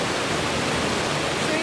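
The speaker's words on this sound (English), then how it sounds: "Probably they hear the water." Rushing water from a waterfall in green country along the Ortega Highway: a loud, steady, unbroken roar that fills the whole moment.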